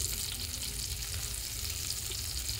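Sardines frying in a pan during home cooking, a steady close sizzle that continues without a break and has no voices over it.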